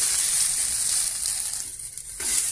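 Turkey berries sauté in oil in a pan for kuzhambu, a loud close steady sizzle that dips briefly and then returns to full strength.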